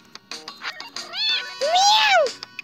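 A cat meows in the video game Super Cat, with rising and falling tonal cries sounding close and clear, mixed in with a person's voice talking and imitating the meow.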